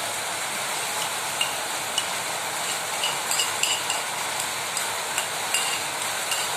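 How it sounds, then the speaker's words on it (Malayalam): Hot tempering poured over koombu thoran, a Kerala mushroom stir-fry, and stirred through it, giving a steady close sizzle with scattered light clinks and scrapes of the spoon. "വറവ് എല്ലാ ഭാഗത്തേക്കും ഇളക്കി ഒന്ന് ഒഴിച്ചു കൊടുക്കാം."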